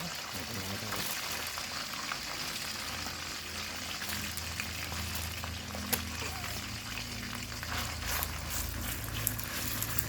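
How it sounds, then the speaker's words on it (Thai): Thai curry paste stir-frying in hot oil in a wok for a frog and pickled bamboo shoot dish, a continuous loud sizzle with occasional scraping stirs throughout. "ผัดพริกแกงเลยนะครับ"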